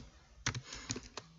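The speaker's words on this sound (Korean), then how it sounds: "제가 타이핑을 잘 못합니다." Quick, uneven keystrokes clatter on a computer keyboard while someone enters an Excel formula, a handful of sharp clicks in short bursts with pauses between them, close and moderately quiet.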